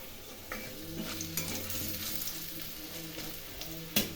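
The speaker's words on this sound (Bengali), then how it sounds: "কালো জিরে ভেজে নিলাম" Seeds sizzling and crackling in hot oil, with a spoon occasionally scraping the pan, a close steady fry with no talking.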